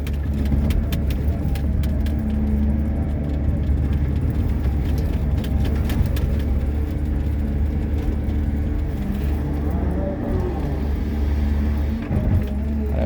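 A steady low engine drone from a CAT 320 Next Gen excavator fills the space, heard from inside its enclosed cab, continuous and rumbling with faint rattles and knocks throughout.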